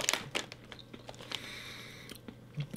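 Someone bites into puffy, crunchy Korean wheat-flour onion ring snacks fried in rice bran oil, giving a few sharp close crunches and crinkly chewing clicks against a quiet background.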